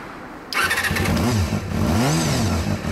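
A 1992 Honda CBR250RR motorcycle with a Daishin racing exhaust fires up abruptly and is revved hard twice, its high-pitched four-cylinder wail rising and falling, loud and close.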